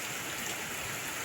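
Steady rain falls on an outdoor cooking spot with a clay stove, a dense, even hiss of drops that stays constant throughout, with no voices.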